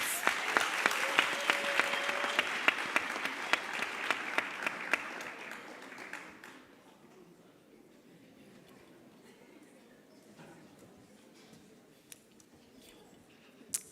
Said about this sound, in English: Please, ladies and gentlemen, please bring her on stage with a round of applause.